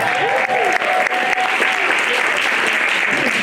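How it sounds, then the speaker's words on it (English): Audience applause at a live talk and music event, a thick, sustained wash of clapping from a large crowd, loud and steady throughout with faint voices mixed in. "Big round of applause for each other"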